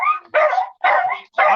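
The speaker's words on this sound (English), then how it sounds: "Excuse me about the barking." A dog barks four times in quick succession, loud and close by, with short gaps between the yapping barks.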